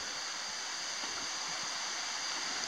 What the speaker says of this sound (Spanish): Tremenda cascada.